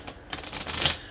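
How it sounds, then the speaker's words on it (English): Playing cards being shuffled and mixed during a mind reading card trick, a quick close burst of riffling, papery flutters lasting about a second. "They can toss it here, shuffle all that up, and then they can mix these into these"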